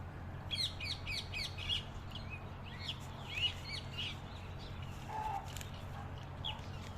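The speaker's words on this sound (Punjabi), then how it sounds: "ਆ ਦੇਖੋ ਚਿੜੀਆਂ ਬੋਲ ਰਹੀਆਂ ਸ਼ਾਮ ਦਾ ਟਾਈਮ ਹੈ" Sparrows chirp in quick bursts of high tweets in the evening on a Punjab farm, fairly faint and outdoors, with a calm low background and an occasional lower call.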